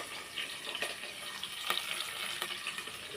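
Green chilli, curry leaves and mint fry in a pan for tomato dal, a steady soft sizzle with crackling spits and a few sharp pops, close but fairly quiet, with no talking.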